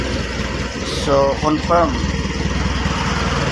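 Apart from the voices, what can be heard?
engine running strongly after carburetor repair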